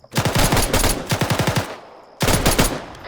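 Sustained automatic gunfire from an Arma 3 military-simulation firefight toward a tree line, loud close bursts of rapid shots in two runs, a short lull, then another burst.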